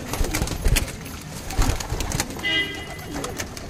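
A Kalpotan pigeon, an old female from a fancier's loft, gives deep repeated coos up close, alongside scattered handling noises and bursts of nearby activity.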